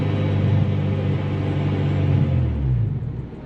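A supercharged K24 engine, sourced from an Acura TSX Type S, in an 8th-gen Honda Civic Si with a Kraftwerks kit runs as a steady, loud low rumble. The pitch sags slightly toward the end.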